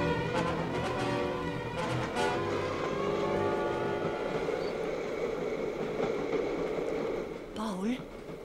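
Interior of a moving train bound for Geneva in a radio drama, with a steady rumbling roll of wheels and carriage running continuously, loud and close, and a brief squeal near the end.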